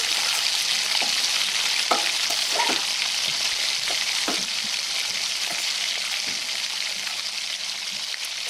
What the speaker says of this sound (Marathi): अगदी 2 मिनिटं हे सर्व परतून घ्यायचं आहे.